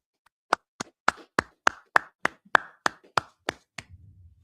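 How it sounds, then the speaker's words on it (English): About a dozen sharp, evenly spaced hand claps ring out at a steady beat, close and clear, in a meeting hall with no talk over them. "All right, let's clap it up."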